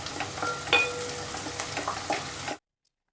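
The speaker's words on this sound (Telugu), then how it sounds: "ఇప్పుడు ఈ ఉల్లిపాయల్ని ఒక రెండు నిమిషాలు దోరగా వేయించుకుందాం" Onions and curry leaves fry in a pan with a close, continuous sizzle, and a spoon scrapes and taps occasionally. The sound cuts off abruptly near the end.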